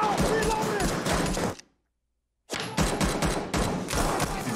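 Dense, sustained gunfire from the 2024 film Civil War, rapid overlapping shots and thuds filling the clip, cut by a brief silent gap before the fusillade resumes just as loud.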